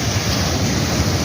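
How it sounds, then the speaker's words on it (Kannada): Ocean waves at Panambur beach near Mangalore roar steadily at night as a dense, continuous wash of surf, loud and unbroken, with some wind noise on the microphone. "ಅಲೆಗಳ ಅಬ್ಬರ ನಮ್ಮ ಕಿವಿಗೆ ಕೇಳ್ತಿದೆ."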